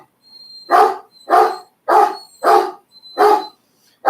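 A dog barks indoors at household noises, five loud, close single barks spaced roughly half a second apart, with a faint high tone in the background.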